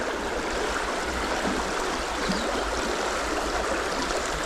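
A fast-flowing stream rushes over shallow riffles in a steady, close, broadband roar, with no voices.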